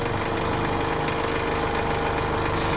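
A scroll saw runs steadily with a continuous motorized hum and fine vibration, loud and close, with no talk over it.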